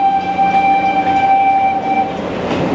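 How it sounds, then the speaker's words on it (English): The Wildlife Express park train at Disney's Animal Kingdom rumbles steadily past close by while its horn holds a long, loud, sustained tone, fading slightly near the end. "train coming through. It's gonna be loud for a second."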